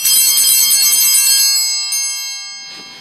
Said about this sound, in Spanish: El sacerdote se arrodillará nuevamente, sonar la campana una vez.